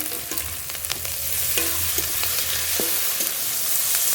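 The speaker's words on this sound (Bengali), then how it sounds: "পেঁয়াজ একটু ভেজে নেব" Chopped onion with a little salt frying in a pan for a home-style Bengali dish, with a steady close sizzle and occasional stirring scrapes and clinks throughout, no voices.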